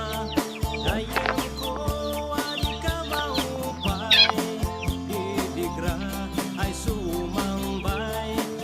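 Several chickens cluck and squawk close by in irregular bursts, with occasional sharper cackles over a busy farmyard background.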